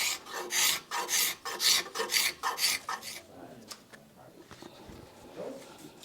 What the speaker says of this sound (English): Do I want to use a scraper? And again, it will clean up the rasp marks.